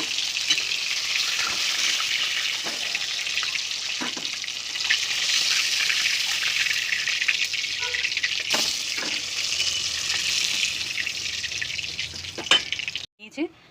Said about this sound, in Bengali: মাছটা আমি এপিট ওপিট করে লাল লাল করে ভেজে নিয়েছি।